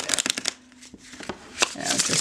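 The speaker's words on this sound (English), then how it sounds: "So let's shuffle it." A deck of Daniloff Oriental Tarot cards gets shuffled and bridged in short riffling bursts, close and crisp, with a quiet pause in the middle before the riffle resumes.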